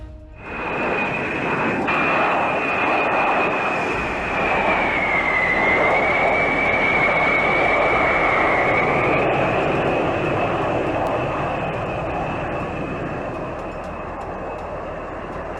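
A C-17 military jet transport flies over Alaska just before a crash, its engines giving a loud, continuous roar with a rising and falling whine that stays steady for about fifteen seconds, with no voices.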